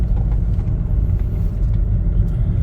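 A 2019 Hyundai Tucson diesel on the move, heard from inside the cabin as a loud, steady low rumble of engine and road noise with no voices.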